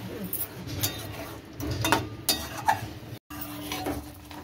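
Eggs being stirred into spice masala in a pan bring repeated metal spoon scrapes and clinks over a soft background hiss, with a brief dropout near the end.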